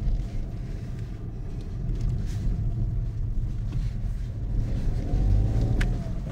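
Ford Puma 1.0 125hp manual car engine pulling lazily under load: a steady low droning rumble with rising and falling intensity, heard from inside the car and without talk.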